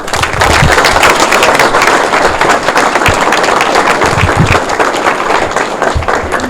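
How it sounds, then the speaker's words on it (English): A luncheon audience applauding a guest speaker, loud, close and continuous clapping with sharp individual claps standing out through the whole stretch, no talking over it. "please join me one more time in a big round of applause to thank our guest today, Tom."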